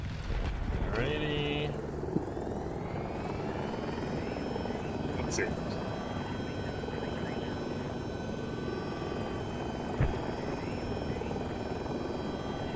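A helicopter in the video game Battlefield 2042 drones with a loud, continuous rotor thrum and whine across the clip, with a couple of sharp impacts and someone speaking briefly over it.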